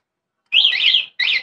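Two short electronic alarm chirps from an electric cargo trike's anti-theft alarm, warbling high tones, the first longer and the second brief, loud and close.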